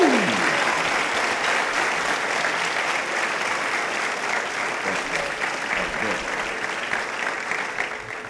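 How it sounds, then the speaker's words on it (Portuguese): A church congregation gives a warm round of welcoming applause for a guest speaker, dense and steady clapping that fills the room throughout before slowly thinning near the end. "recebesse ele com uma salva de palmas de boas-vindas"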